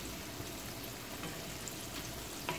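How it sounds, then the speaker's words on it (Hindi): Chopped garlic frying in butter in a pan, a soft, even crackle and sizzle at low level, steady throughout with a faint scrape near the end, no talk. "बटर में, चॉप गार्लिक थोड़ा सा फ्राई हो जाए अच्छे से"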